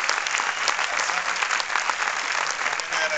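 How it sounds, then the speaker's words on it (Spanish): Dense, continuous audience applause fills an auditorium at a film festival screening presentation, many hands clapping evenly at close range for the whole stretch. "Un aplauso, por favor."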